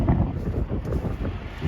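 Wind blows steadily across an open farm field during spring planting, a continuous low buffeting rush with gusty swells close on the microphone, heard alone with no talking.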